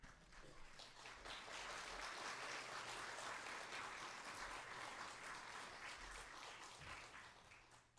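A church congregation welcomes a pastor at a Friday Bible study lecture with sustained applause, many hands clapping in a dense, even wash that swells and holds for several seconds before easing off.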